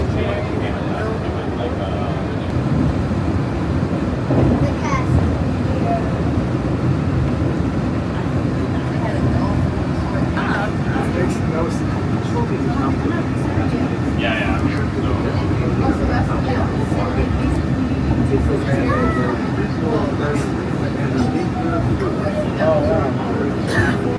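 Steady low rumble of a Walt Disney World monorail ride to the Magic Kingdom rolls on throughout, with faint murmuring voices mixed into the constant hum.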